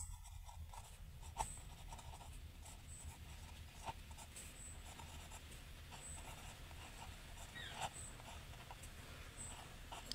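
A pen scratches steadily across paper at a low level, a soft continuous scribbling with faint ticks and strokes, close and quiet with no voices.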